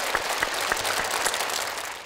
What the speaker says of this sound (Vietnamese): Và một tràng vỗ tay để chúng ta chào đón ba người chơi trong chương trình hôm nay.